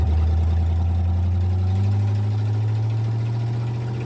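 An old car engine idling loudly, a steady deep rumble with a strong low drone and a slight shift in pitch partway through, close and constant with no talk.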